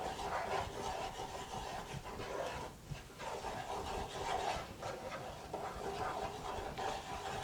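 Flour roux stirred in a pan for a white sauce, a soft continuous scraping and rubbing with gentle bubbling sizzle, steady and close with no talking.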